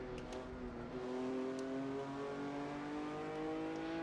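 Ferrari 250 GTO engine in the Assetto Corsa racing game, a steady, smooth multi-cylinder drone holding revs and rising slightly, moderately quiet and heard alone.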